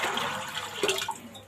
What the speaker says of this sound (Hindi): मैं इसके अंदर ना पानी थोड़ा सा और डाल देती हूँ